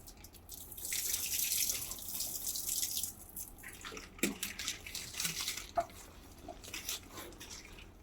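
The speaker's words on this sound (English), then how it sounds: "So all I'm doing is just using a watering can." Water poured from a watering can onto worm bin bedding: a splashing, hissing stream that is stronger at first, then gives way to drips and soft squishy wet sounds, fairly close and with no talking.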